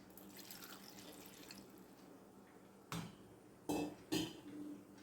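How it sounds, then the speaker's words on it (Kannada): Water goes into a cooking pot holding salted breadfruit pieces with a quiet running trickle, then three short, louder splashes and clatters near the end. "ಸ್ವಲ್ಪ ನೀರು ಹಾಕಿ ಬೇಯಿಸಿಕೊಳ್ಳುವ"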